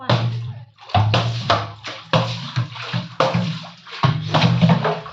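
Water sloshes and splashes in repeated bursts, as if scooped and poured out, close by and fairly loud with short pauses between.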